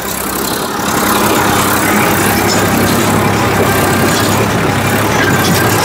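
A tractor in first gear drags a rotavator through a dry field, its engine a loud, steady drone with constant low churning that holds alone throughout.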